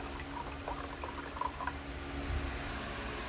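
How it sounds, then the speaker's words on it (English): Water pours steadily into a coffee pot to top off a batch of homemade iced tea, a soft continuous liquid rush with faint clinks, close by. "Next, I top it off with water."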